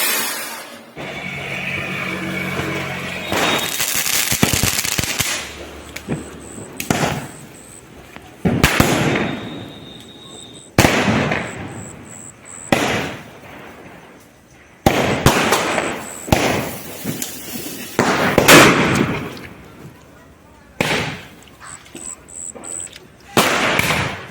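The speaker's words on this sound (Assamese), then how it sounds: "ফটকা ফুটাইছে" Diwali firecrackers burst again and again, sharp loud bangs at irregular intervals, some in quick clusters and others spaced apart, each leaving a short rumbling decay, with faint crackling between.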